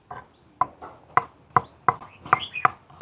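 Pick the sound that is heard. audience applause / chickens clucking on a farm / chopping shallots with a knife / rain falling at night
chopping shallots with a knife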